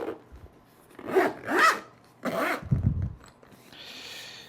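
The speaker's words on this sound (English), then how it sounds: "let's zip this back up real quick." A zipper is pulled around a Peter James Alcantara Black Label travel cigar humidor case in several short rasping strokes, close and clear, with a softer rubbing at the end.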